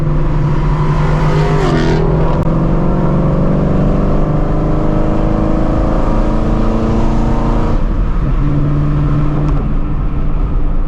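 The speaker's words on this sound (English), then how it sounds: "as soon as I heard that car go" A Dodge Scat Pack's engine revs hard and accelerates in a race against a Shelby GT350, its pitch climbing in loud sweeps before easing off, then surging again, close and continuous.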